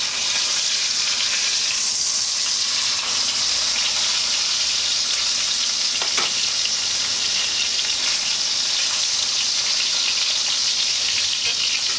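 A ribeye steak fries in butter and garlic in a cast iron skillet, a loud continuous sizzle with faint clinks of spooning, close up and without talk.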